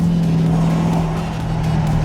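A Chevrolet Camaro SS engine, about 500 horsepower, drones steadily at close range in fifth gear, holding a deep, even tone under load with no voices.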